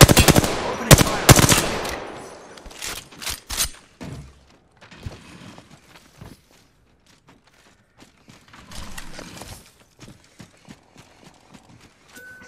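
Rapid bursts of video game gunfire, loud sharp volleys in the first few seconds, then scattered lighter shots and clatter that fade toward the end, with no talking.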